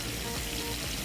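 Butter and garlic sizzling in a hot pan, a soft, continuous crackling fry heard on its own.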